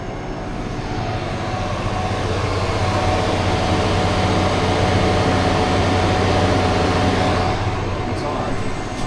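A farm grain dryer runs with a steady, loud, broadband roar and hum that holds even throughout, with no pauses or changes.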